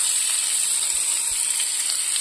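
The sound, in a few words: butter melting and sizzling in a pan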